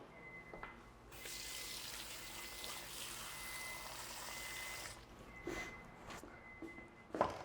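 Water runs from a tap into a bowl of collard greens, a steady hissing pour for several seconds before it stops, followed by faint splashes and handling sounds.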